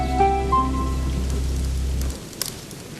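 Steady rain patters and hisses on surfaces around a shack, with a low sustained rumble that cuts off partway through and a few sharper drops afterward.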